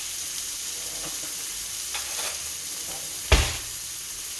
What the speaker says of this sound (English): As the veggies are cooking